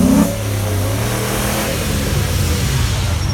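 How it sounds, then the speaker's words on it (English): A Ford Mustang engine revs loudly at a car tour at Sherborne Castle, one strong rising burst at the start settling into a sustained throaty idle rumble that carries on steadily, close by, with no talking. "Rev off."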